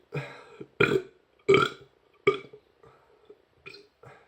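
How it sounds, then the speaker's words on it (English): A man burps after drinking a Namysłów wheat beer, a run of short, close belching bursts, several strong ones followed by smaller, fainter ones, with no talk. "I can feel a burp coming."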